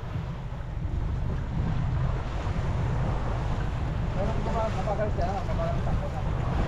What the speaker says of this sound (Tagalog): Ang lakas ng saboy ng tubig ah.